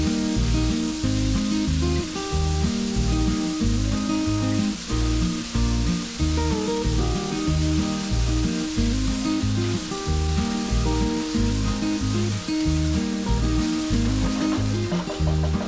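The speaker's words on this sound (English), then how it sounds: "fry it until the onion is nice and soft" Onions frying in a pan with Kashmiri dry red chilies and ginger garlic paste give off a loud, steady sizzle, with rhythmic stirring scrapes repeating throughout.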